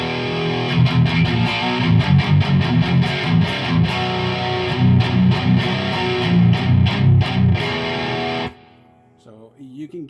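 Electric guitar cranked through a Dr. J Lancelot distortion pedal at high gain, playing dense rhythmic metal riffs with choppy palm-muted chugs for about eight seconds, then cutting off to a faint ringing tail.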